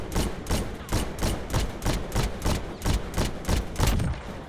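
A shotgun fires again and again in a video game's firing range, a dozen or so heavy booming blasts in a fast, steady rhythm, close and loud with no pauses between shots.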